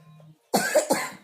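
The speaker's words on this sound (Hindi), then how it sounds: "आपको खांसी हुई है?" A child coughs a few times in quick, close bursts after a brief quiet moment.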